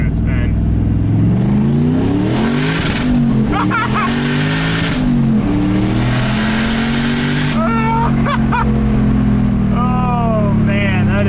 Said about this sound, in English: Should I try a first gear rip?